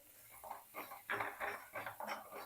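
Misal masala sautéed in a pan, with a spoon scraping and clinking against metal in a few short stirring strokes, close and fairly quiet.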